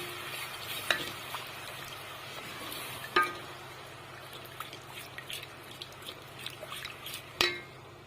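Cold water is poured into a flour mixture for ezogelin soup and beaten with a whisk, giving soft, continuous stirring and liquid swishing, broken by a few sharp clicks of the whisk against the pot.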